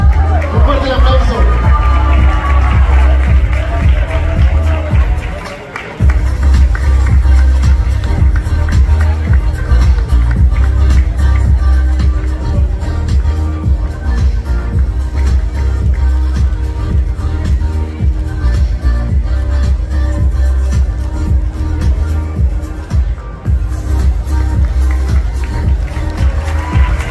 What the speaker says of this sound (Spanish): Nos falta Miss Michoacán, Alondra Cortés. Un fuerte aplauso.